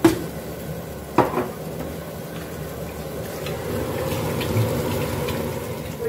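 Water is poured onto washed rice in a pot for a turkey-and-pilaf meal, giving a steady gushing fill that runs for several seconds after a brief clatter, close and moderately loud, with no talk.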